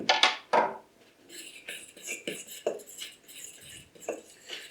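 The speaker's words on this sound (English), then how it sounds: "then we're going to mix together these dry ingredients with a fork" A fork mixes dry quick-bread ingredients in a bowl, making a few sharp clinking scrapes at first and then a steady run of light scratchy taps and rustles, close and alone.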